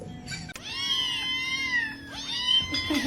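A kitten meows loudly and close, giving several long, drawn-out wailing cries one after another, with a short knock partway through.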